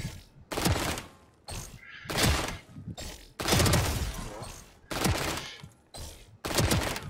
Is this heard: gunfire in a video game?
yes